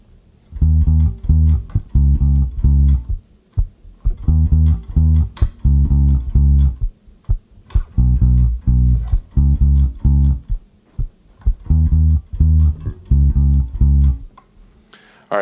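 Electric bass plays the verse line in short repeated phrases separated by brief gaps, close and solo, with crisp plucked notes and no talking.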